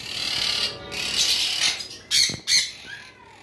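Parblue opaline lovebirds, a pair kept for sale, give harsh shrill squawks close by, a run of scratchy calls ending in two sharp loud bursts.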